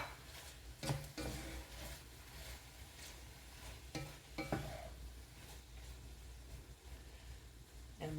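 Chopped fresh tomatoes hiss in a hot pan while a utensil scrapes and clacks against it, a low steady sizzle broken by a few sharp stirring knocks.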